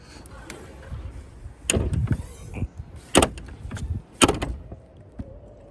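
A power window lowering on a 1986 Chevrolet Camaro with a 383 stroker engine, heard as several short motor whirs and clunks up close, separated by brief quiet gaps and faint background noise.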